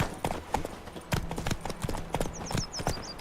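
Hooves of the horse Roach clip-clop in a quick trotting rhythm in The Witcher 3, close and clear, with faint game sounds and a brief voice around them.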